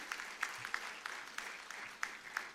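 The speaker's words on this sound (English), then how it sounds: "A big round of applause for all of them." At a university foundation day, audience members clap for CSR partners, producing quiet, sparse applause with distinct individual claps rising at a fairly regular pace.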